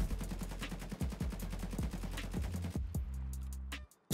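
An automatic rifle in the video game Escape from Tarkov fires a rapid, loud burst of about fifteen close shots, the echoing tail ringing out briefly after the last round.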